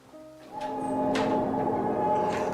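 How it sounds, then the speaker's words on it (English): A stairwell door swings slowly open by itself in a quiet building, a soft creaking tone swelling after a sharp knock and holding steadily, with no one talking. "That door just opened!"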